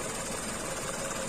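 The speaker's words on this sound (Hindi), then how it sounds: "देखो दोस्तों, जो इंजन है हमारा वो कैसे वाइब्रेट कर रहा है।" A car engine with a cylinder 2 misfire runs steadily at idle, a continuous close rumble with slightly uneven vibration and no voices.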